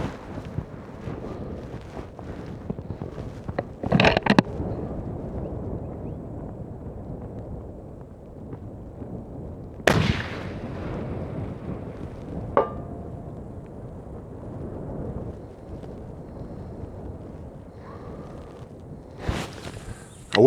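Hunting rifles fire at La Perla Range: a few sharp, loud cracks spaced several seconds apart over steady wind buffeting the microphone, along with outdoor rustling.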